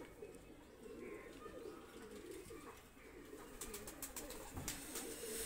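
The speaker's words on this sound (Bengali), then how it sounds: "দুইটা কবুতর খুবই কোয়ালিটি সম্পূর্ণ কবুতর, রানিং কবুতর" Pigeons of quality running stock coo in a steady, overlapping murmur close by, with a few sharp clicks and rustles near the end and no talk.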